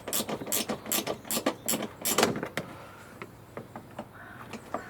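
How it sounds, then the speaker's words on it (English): A screw is unscrewed on the side light fitting of a Vauxhall Antara, heard as a quick series of close ratcheting clicks that fade into softer scattered ticks, with no talk. "I'll unscrew this screw."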